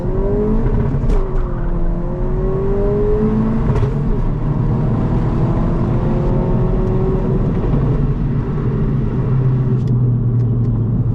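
A modified 2022 Honda Civic Si drives steadily with a loud, continuous engine rumble and road noise, the pitch rising and falling slightly as it accelerates.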